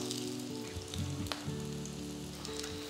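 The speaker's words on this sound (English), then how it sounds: "Once the pan is hot, gently place the kebabs. Fry them till they are golden brown in color on one side" Walnut hara bhara kebabs shallow frying in hot oil in a pan, a steady close sizzle and crackle with faint pops throughout.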